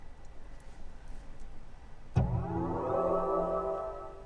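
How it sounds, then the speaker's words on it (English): A BMW comes to life as it is switched on, with a sudden start-up chime swelling into a rising, sustained electronic tone after a quiet cabin, and no talk. "That's what you can hear when you turn the car on."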